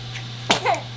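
A kitten gives a single short, sharp sneeze close up, followed by a faint soft after-sound over a steady low electrical hum.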